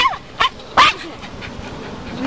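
A big dog lets out two sharp, fairly loud barks in quick succession, followed by a steady background hum with no further barking.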